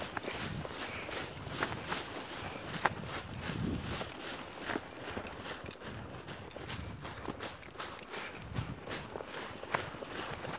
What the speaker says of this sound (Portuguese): cavalo precisando passar aqui